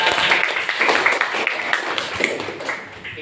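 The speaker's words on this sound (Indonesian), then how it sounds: "Oke, tepuk tangan untuk kita semua." Children clap together in a classroom, a dense patter of small hands that stays steady for a few seconds and gradually thins out, fairly close with no talking over it.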